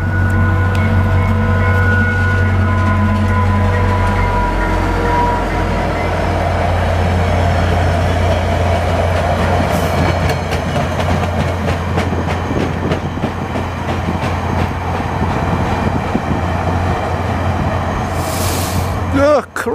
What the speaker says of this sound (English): I got that 150 wrap locomotive